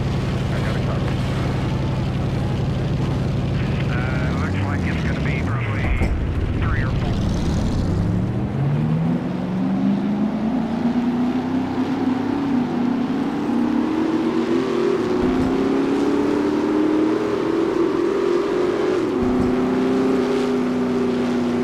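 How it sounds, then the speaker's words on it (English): Stock car engines fire up at Talladega Superspeedway at night in NASCAR Racing 2003. A low idle and a brief voice give way to a loud, rising, sustained drone as the engines rev together. "Drivers, fire up your engines!"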